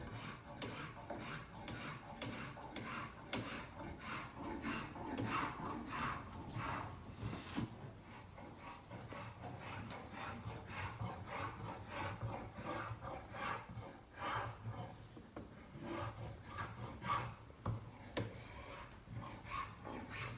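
Hand tool shaving and rasping wood while shaping a canoe paddle, a steady run of close scraping strokes that repeats continuously without pause and with no talk over it.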